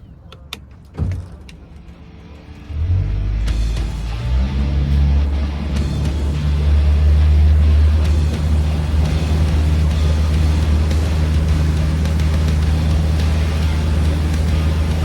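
A new boat outboard motor being broken in starts up with a sharp knock, then runs at a steady, close, droning rumble that rises slightly in pitch as it is revved.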